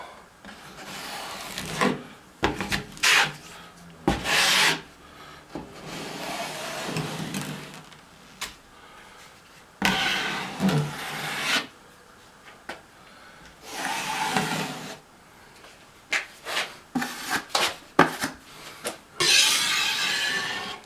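Repeated scraping strokes of a drywall knife spreading a first coat of joint compound in a basement shower, coming in uneven bursts with short pauses between passes.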